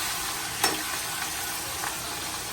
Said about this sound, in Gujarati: પછી મરચાં લસણની પેસ્ટ એને બરાબર હલાવી લેવાનું